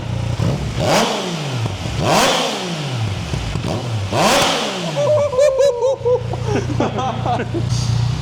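A motorcycle engine with a modified exhaust revs hard three times with a raspy, loud exhaust, each rev rising then falling, followed by talking over a steady idle.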